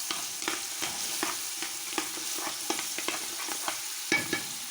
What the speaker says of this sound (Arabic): وراح نضيف البصل، حبتين بصل